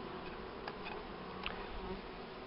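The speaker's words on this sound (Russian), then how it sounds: "Вот, пошла уже пчела." A bee leaves a swarm's nest built on ceiling boards, giving faint buzzing passes over a quiet outdoor background, with a few brief louder buzzes and soft ticks.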